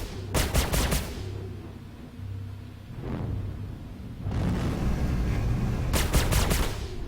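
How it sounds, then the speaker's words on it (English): Spaceship wing weapons firing in the video game Star Citizen, loud rapid bursts of blaster fire in short volleys separated by a rumbling pause, with a final sustained barrage. "let's see which weapons are actually firing"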